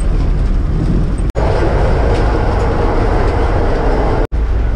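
Interior of a moving Amtrak passenger train: a loud, steady rumble and broadband rush of the car in motion, broken by two brief dropouts, with no voices.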